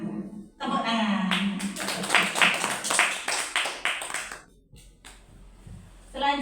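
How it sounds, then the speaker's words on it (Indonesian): An audience claps together in a burst of applause at an educational dissemination session, loud and sustained for several seconds, then fading with a brief pause before clapping picks up again, with some chuckles mixed in. "Tepuk tangan."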